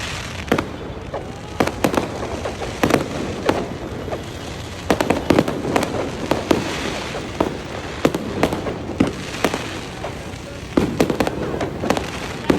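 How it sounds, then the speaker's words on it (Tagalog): Fireworks pop and crackle in irregular bursts in Bonifacio Global City (BGC), Philippines, sharp bangs scattered throughout against a steady rumbling backdrop, with no talking. "may fireworks display"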